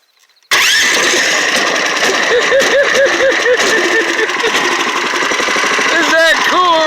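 A small engine with electric start cranks and catches on choke, then runs steadily and loud close by, with a voice talking over the running engine.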